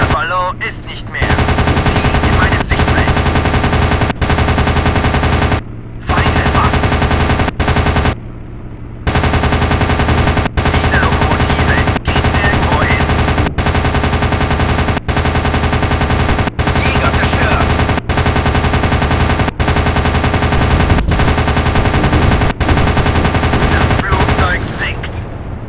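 Sustained, loud machine gun fire in a WW2 dogfight video game rattles almost nonstop, broken by a few brief pauses, with aircraft engine drone and faint voices underneath.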